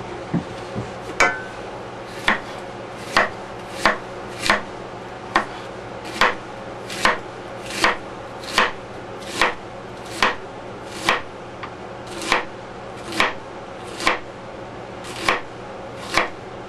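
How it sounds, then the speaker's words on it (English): A knife slices a vegetable bulb very thinly and vertically, each cut landing as a crisp knock on the board at a steady pace of about one per second, close and clear with no talking. "we want to slice this very thinly vertically"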